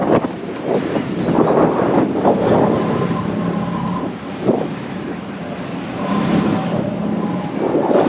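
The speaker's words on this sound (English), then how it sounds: "So winds are blowing now this way." Strong wind buffets a microphone aboard a 60-foot yacht during docking, a steady roaring rush with gusty swells throughout and no voices.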